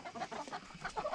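Chickens cluck in a backyard flock at dusk, a run of soft, overlapping clucks and murmurs close by with no talking.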